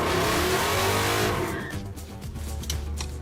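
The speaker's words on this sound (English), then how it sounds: "It's always cool to get a chance to drive the muscle truck." An old muscle truck with a four-link rear suspension accelerates hard on the road, its engine revving loud and close. The roar fades slightly midway, then rises again.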